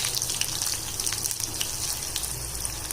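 Boiled yam goes into hot oil with mustard seeds and urad dal, making a continuous close sizzle with crackles and spits.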